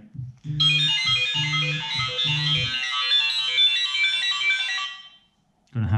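A phone rings loudly and close, a bright electronic ringtone melody sustained for several seconds over brief low hums, ending in a short silence before sound resumes.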